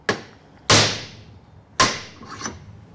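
Three sharp hammer blows strike a metal piece clamped in a vise in a home shed workshop, each a loud close bang with a ringing decay, irregularly spaced with quiet gaps between.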